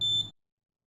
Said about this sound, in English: this buzzer will produce 4 different sounds with different intervals corresponding to 4 alerts.